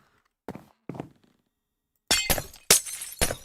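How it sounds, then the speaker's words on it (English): Ice blocks breaking in a video game, using a glass-shatter effect: two small cracking hits, a pause, then a loud burst of several sharp shattering crashes in quick succession. "they use the glass breaking sound for ice as well, apparently"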